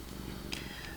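A female cat purrs loudly up close in a steady low throb, with a brief higher rustle or squeak near the middle.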